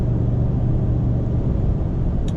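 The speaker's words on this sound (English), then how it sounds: "Dang, that exhaust sounds so good." A low, steady exhaust rumble drones continuously from a nearby idling 2023 Dodge Ram 1500 Hemi V8, deep and throbbing, with a faint short chirp near the end.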